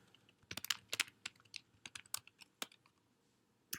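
Quick, fairly quiet key presses on a computer keyboard while typing a column heading into a spreadsheet, an uneven run of crisp clicks with short pauses, no talking.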